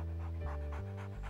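Guide dog panting close up in rhythmic, steady breaths over about a second, heard alone over a tonal background.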